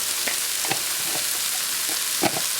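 Cumin seed powder and salt fry steadily in a hot pan, a loud continuous sizzle broken by a few scraping stirs, close up with no voices.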